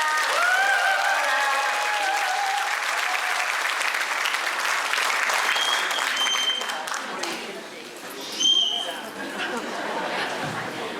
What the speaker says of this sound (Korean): 다시 한번 두 분의 시국 대담회를 뜨거운 박수로 시작하겠습니다